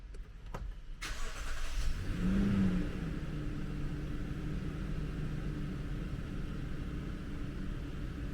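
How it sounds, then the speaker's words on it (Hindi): A Toyota Land Cruiser LC200 engine cranks briefly after a couple of clicks, catches with a rising rev, then settles into a steady low idle rumble heard close up with no talking. "मैं इस गाड़ी को स्टार्ट कर लेता हूँ और आपको इस गाड़ी का स्टार्टअप दिखाता हूँ"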